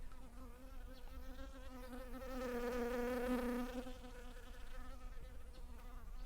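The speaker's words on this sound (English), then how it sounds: "Don't sting me, bee." A large bee buzzes close by with a steady droning hum that swells louder around the middle as it passes nearest, then eases back, with no talking.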